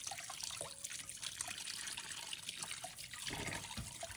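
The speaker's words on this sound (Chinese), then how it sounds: "用流动水把鱼清洗干净，冲洗鱼身内部" Running tap water pours steadily over a sea bass as it is rinsed inside and out, a close continuous splashing trickle with small irregular surges.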